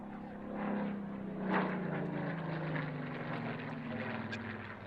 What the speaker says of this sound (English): So, which aircraft are we looking at right now? Is this a Spitfire?